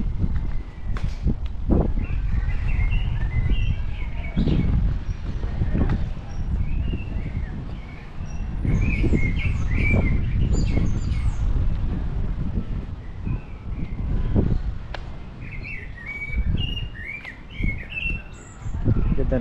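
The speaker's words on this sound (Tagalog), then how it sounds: "Ganda ng tunog ng ibon." Birds chirp and sing in short bright phrases in New Zealand over a rustling outdoor background, with footsteps and occasional thumps nearby.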